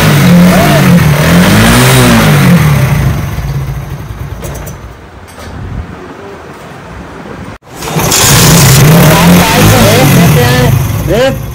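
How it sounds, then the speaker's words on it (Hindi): Engine of a new 2024 Chinese motorcycle with a misfiring fault revving hard in repeated loud bursts, dropping briefly toward idle midway and then revving again, with someone talking over it. "आप रेस दे के चेक करते हैं क्या हमारी बाइक मिसिंग करती है नहीं करती।"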